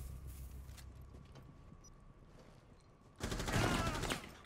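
Gunfire in Rainbow Six Siege: quiet, scattered background noise first, then a sudden loud burst of rapid shots close by near the end.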